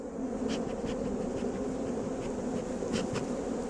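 Honey bees swarm over an opened hive box during a split, with a dense, continuous buzzing drone close by and a few faint clicks and taps of frames being handled.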